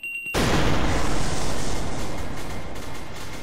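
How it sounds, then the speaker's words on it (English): A loud, sudden blast erupts from near silence in the video game SCP: Secret Laboratory, then a sustained roaring rumble holds for several seconds as it slowly decays. "Explosions."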